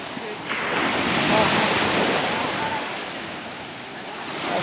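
Sea waves breaking at the shore in Saudi Arabia, a broad continuous wash of surf that swells and recedes, mixed with wind buffeting the microphone.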